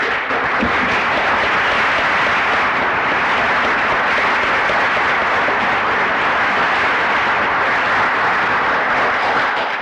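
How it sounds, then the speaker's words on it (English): Sustained, loud applause from a conference audience honoring the organizer, a thick continuous roar of clapping hands that stays level for the full ten seconds without pause. "I think we should applaud the efforts of the organizer"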